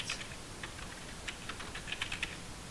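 Quick bursts of key presses on a computer keyboard while JavaScript code is typed, soft and close, in short irregular clusters over faint room hiss, with no one speaking.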